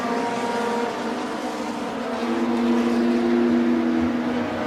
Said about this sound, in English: And that car rolling to a halt.